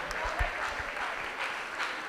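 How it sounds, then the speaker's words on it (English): Audience applause for the sponsors at the Miss St. James Festival Queen Competition in Jamaica, a steady wash of many hands clapping at moderate volume throughout, with a few low thumps early on. "A round of applause for all our sponsors."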